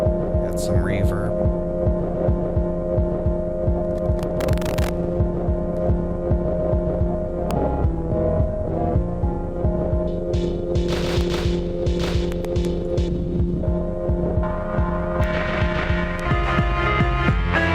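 Polyend Play synth playing a throbbing, humming bass line with reverb, a pulsing sustained tone that runs throughout with brief clicks of button presses and a low voice talking over it at times.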